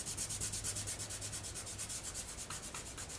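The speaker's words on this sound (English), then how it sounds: "I'm just going to use my finger and I'm going to rub this color." A fingertip rubs Gelatos color across paper in steady, rapid back-and-forth strokes, a close, soft, even scratchy swishing that repeats in a regular rhythm throughout.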